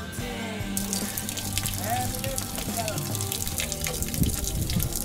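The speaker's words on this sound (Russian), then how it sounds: "сливаем воду, потому что по этой плохой дороге ехали, и бак с водой наш с одной стороны открепился" Water drains steadily from a car's roof water tank that has come loose on one side on a rough road, a continuous splashing trickle heard outdoors with a voice talking over it.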